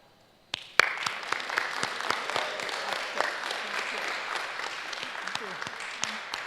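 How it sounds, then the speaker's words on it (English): Applause from an audience at a resolution presentation honoring Sister Trinie bursts in after a brief quiet start, with a dense wash of clapping and sharp individual claps that holds steady throughout. "Big round of applause for Sister Trinie"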